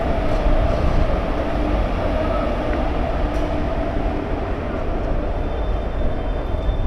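A continuous low rumble of the 12364 Haldibari–Kolkata Superfast Express drawing near, steady and loud throughout, with no voices.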